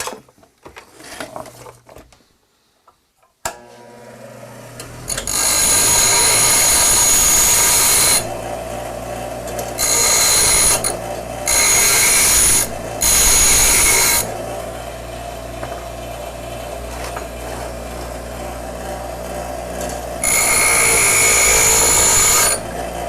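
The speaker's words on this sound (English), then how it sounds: "I'm going to chamfer them off a little bit on the grinding wheel again." Steel rod ends are chamfered on a bench grinding wheel: the motor spins up with a hum, then several loud, harsh grinding passes of a few seconds each come close up with short pauses between them, and nobody speaks.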